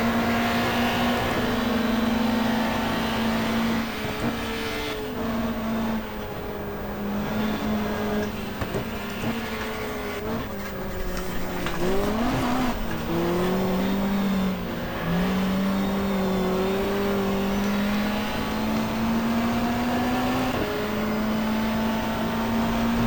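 Race cars at Pukekohe in the GTR2 racing game, a 1994 touring car race with a Peugeot nearby, hold a loud sustained engine drone that rises and falls with gear changes and revving, with a brief downshift burble midway.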